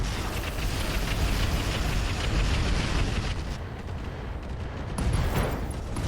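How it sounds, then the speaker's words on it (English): Artillery fire in the mech strategy game RogueTech, a continuous dense barrage of booming explosions and rumbling blasts lasting several seconds, loud and unbroken, with no speech over it. "We're going to drop artillery over here."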